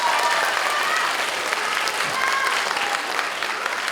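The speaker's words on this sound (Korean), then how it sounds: "큰 박수 부탁드립니다" Audience at a high school admissions information session, Seoul Webtoon Animation High School, gives steady, enthusiastic applause, many hands clapping in a dense, even wash from start to finish.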